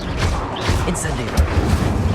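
The Incendio fire spell from Hogwarts Legacy erupts as a short, loud, booming burst within steady battle noise, with a voice talking over it.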